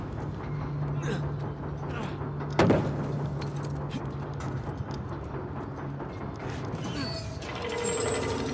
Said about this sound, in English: I'll be careful with those gears